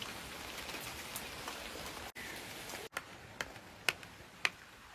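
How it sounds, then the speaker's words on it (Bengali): Steady rain patters through a leaking house roof, with water dripping indoors; a continuous soft wash of rainfall is punctuated by a few distinct close drops landing, and no one speaks. "এই বৃষ্টিতে ঘরে জল পড়ছে, আর থাকা যাবে না।"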